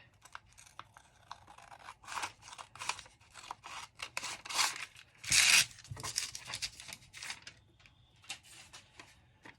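Scissors cut out a paper gift tag: a string of crisp snips and rustles, irregular and close, with one louder crunching cut midway.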